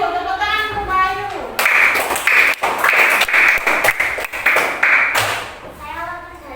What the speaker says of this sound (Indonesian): Tepuk tangan untuk Mbak Ayu.